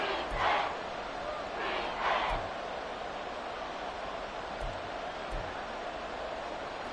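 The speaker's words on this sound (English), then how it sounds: "The crowd here in the Dome making things difficult." A stadium crowd roars inside a dome in the Madden video game, a steady distant wash of cheering with a few swelling shouts and low thumps, moderately faint and without talk.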